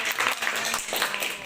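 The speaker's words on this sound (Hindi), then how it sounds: "ताली।" Classroom clapping after a children's language lesson, a brief, dense burst of many hands clapping together at close range, filling the whole moment.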